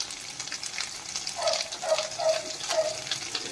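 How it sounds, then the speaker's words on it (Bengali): Water is poured into a cooking pot of pointed gourd curry with turmeric and chili on a low gas flame, a close gushing splash over a soft sizzle that rises and falls in several pulses. "জল দিয়ে দিলাম"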